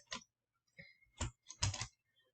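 A handful of separate keystrokes on a computer keyboard, spaced out and close up in a quiet room, with the last few clustered into a quick run.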